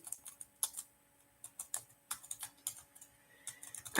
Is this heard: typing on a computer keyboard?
yes